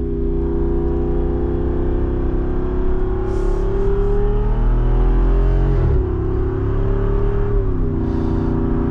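A loud Jeep Wrangler Rubicon 392 engine drones steadily in manual mode, its pitch dropping and rising as it shifts between third and second gear, with a whirring, revving tone throughout.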